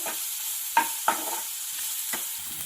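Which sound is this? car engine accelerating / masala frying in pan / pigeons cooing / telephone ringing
masala frying in pan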